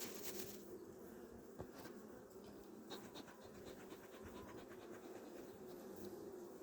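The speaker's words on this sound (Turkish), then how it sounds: "Fazlaca arı var. Şimdi arı biraz sesli" A dense, steady hum of many honeybees buzzing close by in a hive in November, a continuous drone with faint scratchy movements mixed in.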